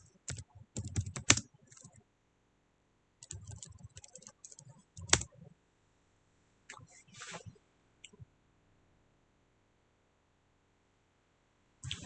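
Bursts of clicky computer keyboard typing come in short runs separated by pauses, close and fairly quiet, with a single tap at the end.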